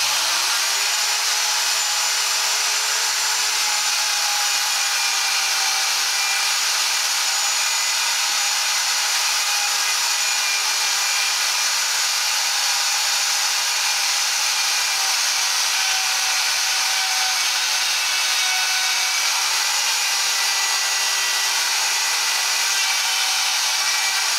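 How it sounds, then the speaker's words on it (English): A router on a woodturning duplicator cutting a wooden blank, heard as a steady, loud high-pitched whine that runs continuously without pause, with no talking over it. "You just flip on the router."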